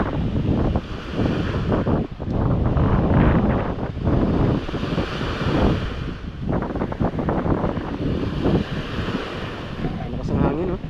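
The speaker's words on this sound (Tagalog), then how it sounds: "Lakas ng hangin, oh. Alon." Strong wind buffets the microphone with a constant roar while waves surge and wash in steadily underneath.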